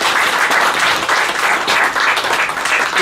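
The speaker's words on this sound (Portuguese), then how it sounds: "Vamos aplaudir o Senhor." A church congregation applauding together, a dense, steady wash of clapping that stays loud and close throughout with no pause.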